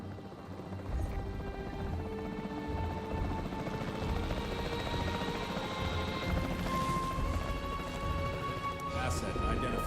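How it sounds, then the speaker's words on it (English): In Jurassic World Evolution 3, the capture team helicopter drones steadily and continuously at moderate volume, a dense rotor roar with a faint whine layered over it. "The priority needs to be tranquilizing it with the capture team chopper."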